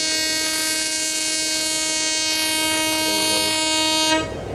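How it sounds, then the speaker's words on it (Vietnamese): A barge hauling crushed stone sounds a long, steady, piercing horn blast, loud and close, holding for about four seconds before cutting off. "các bạn có nghe tiếng kèn của xà lan chuẩn bị ra tiếp theo không?"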